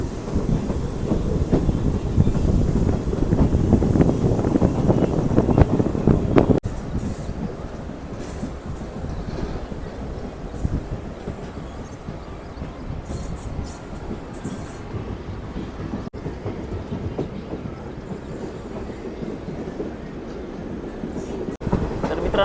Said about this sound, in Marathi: मस्त एकदम स्पीडमध्ये ट्रेन आता पळत होती.